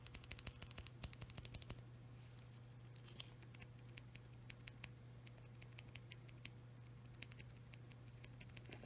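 Everglide Oreo tactile mechanical keyboard switches fitted with switch films and a keycap, typed in quick muted clicks and taps, a fast burst at first then scattered presses over a low steady hum.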